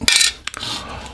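A small metal washer being placed inside a Kenwood TS700S radio, a bright clink of metal on metal followed by light tapping and handling, close and brief.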